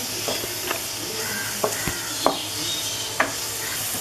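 Carrot halwa cooked with ghee and milk being stirred in a pan, a soft steady sizzle with scattered scraping taps of the spoon against the pan at irregular intervals.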